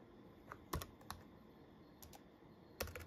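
Keys clack on an old ThinkPad X61 laptop running Arch Linux, a few scattered, faint presses close by in a quiet room, with brief pauses between them.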